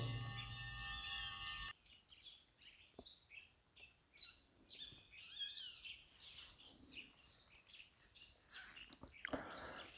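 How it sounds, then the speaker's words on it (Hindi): Birds chirp and tweet in scattered short calls outdoors in the Shoolpaneshwar Wildlife Sanctuary, fairly faint, over a quiet background after a brief louder noise at the start. "ये देखिए चिड़ियों की आवाज़।"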